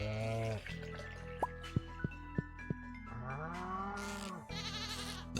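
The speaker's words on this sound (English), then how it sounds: "Here I am trying to milk the cow with my bare hands." In Stardew Valley, a farmer tries to milk a cow in winter. A game cow moos, then a string of short, evenly spaced dripping plinks sounds over light background music, ending with a brief animal call.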